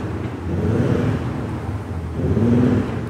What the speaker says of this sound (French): Les 4 sorties d'échappement, parce que c'est une S5, avec les caissons de résonance pour le système de son piloté, qui fait un assez joli bruit